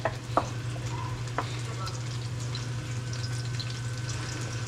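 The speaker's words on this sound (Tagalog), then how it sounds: "Tapos, gigisa ko din ito ang luya." Ginger sizzles while being sautéed in a pan, a soft continuous frying crackle with a few sharp clinks of utensil against pan early on, under a low steady hum.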